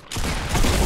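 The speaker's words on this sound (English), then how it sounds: "now I'm getting shot from somewhere else" Gunfire in the Fortnite battle royale video game, a short loud burst of shots that starts abruptly and continues without a break.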